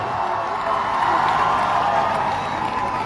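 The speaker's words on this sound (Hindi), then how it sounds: "आपकी जोरदार तालियां" A large crowd at an Independence Day event in India applauds and cheers continuously, a dense roar of clapping that holds steady throughout.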